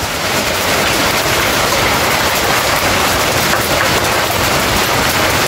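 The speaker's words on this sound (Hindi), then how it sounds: "ओ भाई नीचे देखो कितने तेज ओले पड़ रहे हैं।" Heavy hail pounding down outdoors near a rooftop with a budgie cage, a dense, loud, continuous hiss and clatter without pause, no distinct voices over it.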